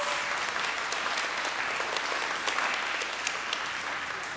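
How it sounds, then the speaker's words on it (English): Audience applause after a 2nd, 3rd and 4th grade school Christmas program, a steady even wash of many hands clapping together, sustained at moderate volume without talk over it. "Everybody, let's give them a round of applause."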